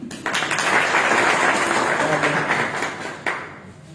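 Loud, sustained applause from a crowd, swelling and then tapering off, with a brief burst near the end.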